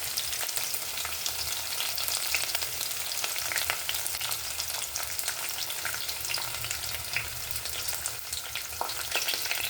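Onions fry in hot oil with green chillies and whole spices for a Karnataka-style veg biryani, giving a steady, dense, close sizzle that holds evenly throughout with faint stirring, and no voices.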